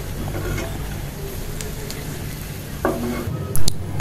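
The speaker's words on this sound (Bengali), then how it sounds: "রসুন হালকা ভেজে নিয়ে পেঁয়াজ আর মরিচ দিয়েছি। তো এটাকে একটু হালকা ভেজে নিব," Garlic, onion and chili sizzle in a hot pan while being stirred, a steady frying hiss broken by a few louder scrapes and clinks of the utensil near the end.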